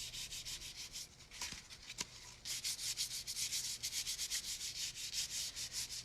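Annie Sloan silver gilding wax worked onto a surface by fingers: soft, close rubbing strokes, briefly interrupted by a couple of small knocks, then a fast steady back-and-forth rhythm.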